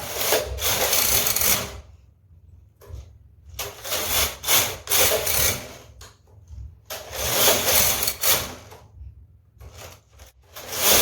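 Punch card knitting machine working, its carriage swept back and forth in loud bursts of rattling and clacking, separated by short quiet gaps, while needles shift and the pattern card advances.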